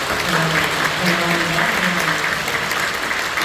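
A church congregation applauds to welcome newcomers at an evangelism service, producing a loud, continuous, dense patter of many hands clapping at once, steady throughout with faint voices beneath.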